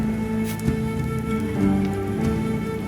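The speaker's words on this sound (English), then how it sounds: "all this rain isn't helping" Steady rain patters on surfaces in the Expeditions: Rome video game, a continuous wash with drumming textures and a few louder drops, sitting under tonal in-game ambience, no voices.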